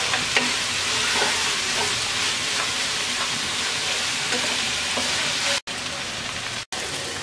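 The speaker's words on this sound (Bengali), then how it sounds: "এবার চুলার আঁচ বাড়িয়ে দিয়ে ভেন্ডিটাকে 3-4 মিনিট ভেজে নেব।" Okra frying in a pan on high heat, giving a dense, steady sizzle with occasional faint stirring scrapes, close and continuous, broken by two brief cuts near the end.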